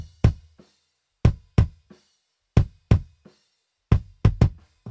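Raw, unprocessed kick drum from a mix contest recording, struck repeatedly in an irregular pattern of single and paired hits, each a punchy low thump with a short decay, close and dry with silence in between.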